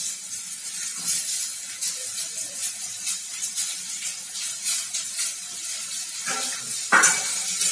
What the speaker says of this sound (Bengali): আলুটাকেও পেঁয়াজের সঙ্গে খুব ভালো করে ভেজে নেব।